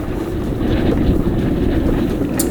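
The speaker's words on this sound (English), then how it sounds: "the wind is blustery from the southwest" A gusty southwest wind at a Graduate dinghy race on open water buffets the microphone with loud, continuous low rumbling and no voices.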